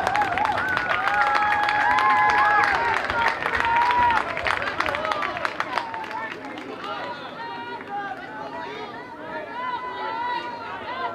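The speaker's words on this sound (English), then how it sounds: "Let's give these seniors a round of applause." Crowd at a senior all-star football game breaking into applause and cheering, loud and dense clapping at first that fades over several seconds, with chatter and a public-address voice over it.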